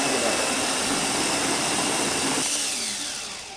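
Coffee grinder grinding Intelligentsia Black Cat Classic Espresso whole beans, a loud steady high whirring buzz that holds for a couple of seconds, then thins and winds down as the beans are ground through.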